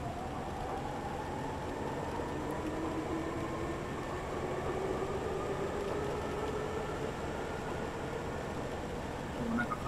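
A train rumbles steadily past at moderate distance, with a rising and falling whine over continuous rolling noise as it pulls away.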